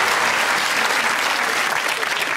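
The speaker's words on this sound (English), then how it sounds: "you're applauding someone being very weaselly." A studio audience at a British comedy quiz show applauds, a dense, even wash of clapping that stays loud and continuous throughout.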